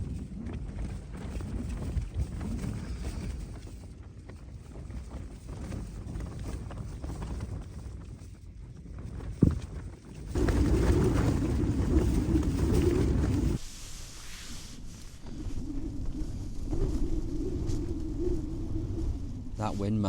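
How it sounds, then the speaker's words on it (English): Strong gusting wind buffets a tent pitched for a wild camp on a windy Lake District summit, roaring and rumbling in surges with a sharp thump partway through, and a person speaks at times. "That wind, man."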